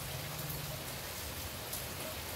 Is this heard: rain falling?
yes